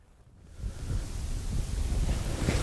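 Wind blowing outdoors in open country during a blesbuck hunt, a steady broadband rush that swells within the first half second and then holds loud and constant, buffeting the microphone.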